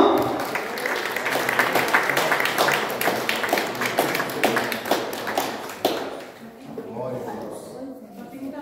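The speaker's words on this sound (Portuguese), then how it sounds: "Você pode aplaudir o Senhor?" Church congregation clapping during a Holy Communion service comes as a run of sharp, fairly loud hand claps for about six seconds, with voices mixed in, then fading as talk takes over.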